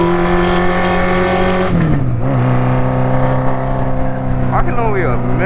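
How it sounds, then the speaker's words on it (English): A loud Honda CB750 Nighthawk motorcycle engine drones steadily up close, its pitch dropping partway through as it shifts or slows, with a voice speaking over it. "I can only imagine how loud this bike is to everybody else."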